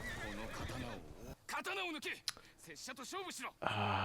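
Horses neigh and whinny in the Ghost of Yōtei video game, with several loud, close calls in quick succession and faint clip-clop hoofbeats between them.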